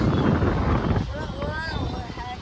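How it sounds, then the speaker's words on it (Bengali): Strong sea wind buffets the microphone on a beach with a loud, rushing roar that eases midway, while someone speaks over it. "এখন না মারাত্মক সুন্দর হাওয়া দিচ্ছে"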